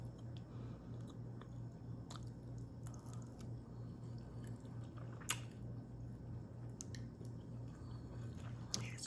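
Soft, close chewing and biting of creamy garlic butter chicken with Parmesan rotini, with faint moist squishes and occasional small clicks over a quiet steady background hum.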